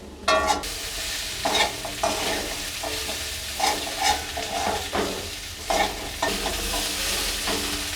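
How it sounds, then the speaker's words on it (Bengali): Chickpeas and potatoes sautéing with spices and chicken masala in a pan, a steady sizzle broken by repeated scraping stirs at an irregular rhythm, close and fairly loud with no talk. "মশলার সঙ্গে ছোলো আলুগুলো খুব সুন্দরভাবে কষানো হয়ে গেছে"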